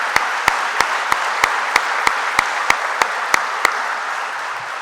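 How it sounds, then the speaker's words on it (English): Sustained crowd applause at a college athletic hall of fame induction ceremony, dense and steady throughout, with a series of louder individual claps standing out at regular intervals before fading slightly at the end. "I think that deserves a round of applause."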